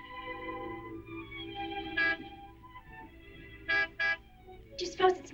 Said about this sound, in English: Martin would never honk the horn at a lady